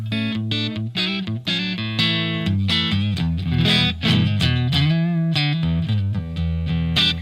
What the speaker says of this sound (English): That is the sound of big American tubes.